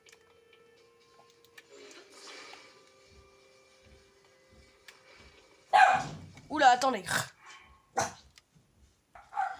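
A dog barks a few times in a video game set on sky islands, a short close burst of barking following quieter game sounds, with someone talking over it.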